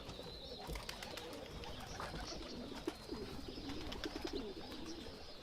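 Racing pigeons coo softly in a low, rolling rhythm, somewhat distant, during a pigeon race in Chojnice, Poland, over a steady outdoor background hum with faint chirps.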